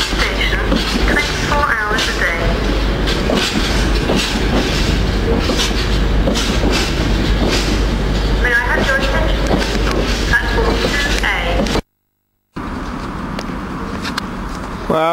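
A train bound for Stansted Airport rumbles steadily close by, a continuous loud rolling drone with faint clattering, briefly cutting out before resuming.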